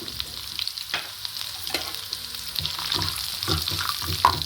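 Cumin, pepper and cashews fry steadily in a pan for pongal, a constant crackling sizzle with occasional stirring scrapes and clinks, close and moderately loud with no talking.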